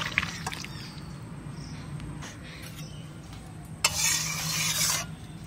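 Katla fish and cauliflower curry is poured into a cooking pot: soft scraping and stirring give way to a short burst of sizzle and splash, all fairly quiet and close.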